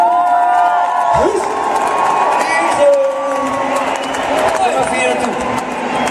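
Concert crowd at a show cheers, whoops and claps loudly, a roaring mass of voices with shouts and whistles while an amplified voice speaks over it.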